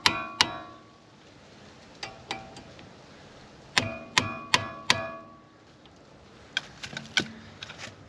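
A new brake rotor on a Honda Accord being tapped into place, sharp metallic ringing knocks in small clusters spread over several seconds, some ringing out briefly, close by with no talk.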